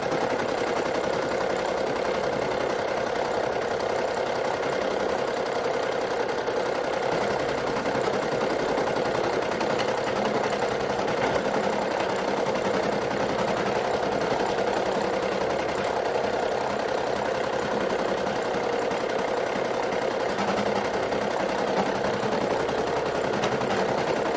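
An SE 1900 embroidery machine stitches a Christmas design directly onto a baby onesie, a steady, fast mechanical rattle and hum that runs unbroken and close throughout.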